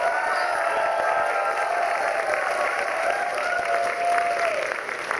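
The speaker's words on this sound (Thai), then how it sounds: "ขอเสียงปรบมือให้กับทีม MCA ด้วยครับ" Steady, dense applause from a large audience for a talent-show team performing aboard the Norwegian Star cruise ship, holding at an even level throughout with a faint crowd murmur underneath.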